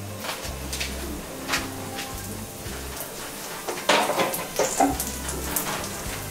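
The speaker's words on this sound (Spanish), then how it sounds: "Ya hemos puesto el aceite a calentar, echamos los piñoncitos. Vale, esperamos que se doren un poquito." Pine nuts frying in hot oil give a soft, steady crackle and spatter, with a few sharper pops and a brighter burst of sizzling midway, heard close up with no talking.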